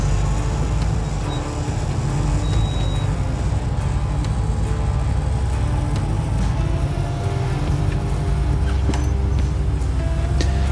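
Off-road rock crawler engine labouring steadily as it climbs up and over a big pile of rocks at Billings Canyon on a hard trail, a continuous loud low rumble with scattered knocks and scrapes, no talk.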